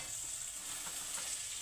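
Food fries in a pan with a steady bright sizzle, while a utensil stirs it with soft scraping strokes, close and fairly quiet.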